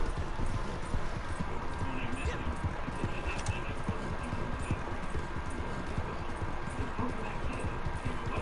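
Steady, busy clip-clop of a horse's hooves on the move in Red Dead Redemption 2 Online, continuous and fairly close under dense game ambience, with someone talking over it.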